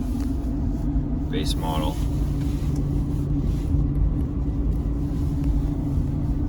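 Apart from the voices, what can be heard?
cabin noise of Ford Super Duty 7.3 gas truck driving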